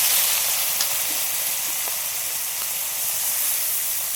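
Tiny pond prawns coated in salt and turmeric fry in a pan, making an even, hissing sizzle that stays constant with only faint ticks.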